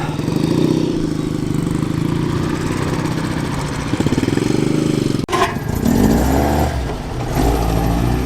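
An AJS motorcycle engine runs steadily at a classic vehicle show at Rutland Showground, Oakham, a continuous close rumble with a brief dip partway through before picking up again, with no talking.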